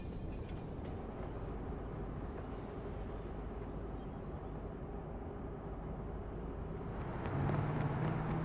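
A hacked train in a video game rolls along with a continuous heavy rumble and rattling wheels, growing louder toward the end with a rising metallic whine.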